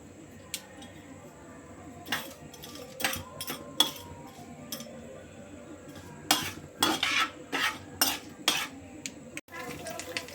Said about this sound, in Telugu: మాడనేకుండా తాలింపు మొత్తం కలిపి వేసుకుందండి